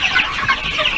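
Day-old broiler or layer chicks peep in a heated brooder, several high, thin cheeps overlapping rapidly and close by, with no talking.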